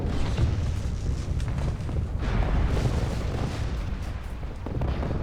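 A dense, continuous barrage of LRM missile explosions rumbles in MechWarrior Living Legends on a highlands map, loud and deep, with overlapping booms and crackling impacts and no clear pauses.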